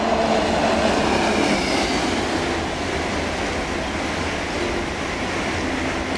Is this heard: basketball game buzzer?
no